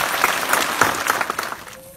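A crowd at a memorial tribute for Carmela Parral Santos, a municipal president, breaks into sustained applause, dense and close, tapering off at the end.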